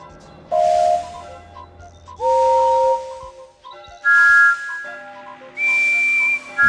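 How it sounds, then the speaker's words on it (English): Four short steam-style whistle blasts from Thomas the Tank Engine in a Thomas and Friends PC game, each a steady hissy tone of about a second. They are spaced evenly over a quiet background, with music notes ringing between them. "Can you find a whistle like Thomas's?"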